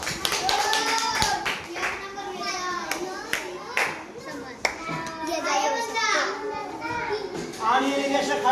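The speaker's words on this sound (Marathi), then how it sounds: "टाळ्या वाजा" Children clapping in bursts of sharp hand claps at a fun games event, mixed with excited kids' voices and chatter throughout.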